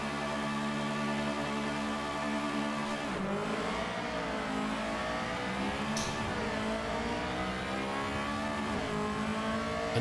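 An EG Honda Civic race car at a Castle Combe race start in iRacing, its engine note climbing steadily through the revs under a dense wash of surrounding car engines, loud and continuous with no talking.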